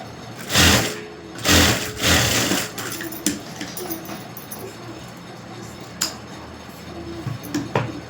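A sewing machine runs in three quick bursts of rapid stitching, near and loud, while stitching the back neck of a blouse, followed by clicks and light handling noises as the fabric is adjusted.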